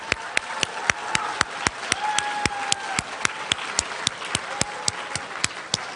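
Claps ring out in a steady, sharp rhythm at a poetry recitation finals, sounding like a small group or a single pair of hands rather than a full crowd, close and fairly loud with no talk over them.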